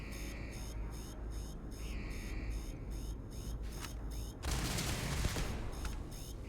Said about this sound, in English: What the hell is shooting that?